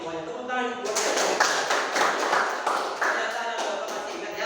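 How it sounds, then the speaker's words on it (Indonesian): Students in a classroom break into applause for their teacher, a brisk patter of many hands clapping close by that starts after a brief voice and carries on steadily to the end. "Tepuk tangan buat saya."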